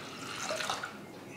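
Water poured from a vessel into washed lentils in a cooking pot, a soft continuous splashing and trickling close by, steady for just over a second, with no talking.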